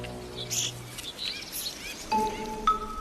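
A woodpecker calling at an acorn storage tree, a few short chirping calls in an outdoor setting, with a longer clear call and soft background bird notes.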